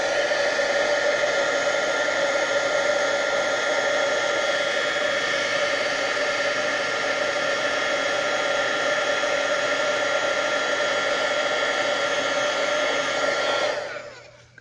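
A steady, loud blowing whir of a heat tool melting embossing powder runs continuously for about fourteen seconds, then cuts off at the end.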